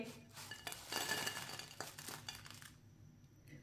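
Crispy fried potato chips land on a plate with a quiet flurry of light clinks, scrapes and rattles from a utensil, close and brief, then the sound fades to near silence.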